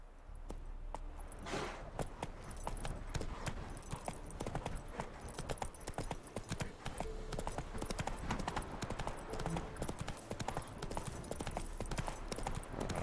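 Horse hooves clip-clop continuously at a steady gallop in The Witcher 3 video game, riding through a swampy area south of Novigrad, rhythmic and fairly close with no pauses.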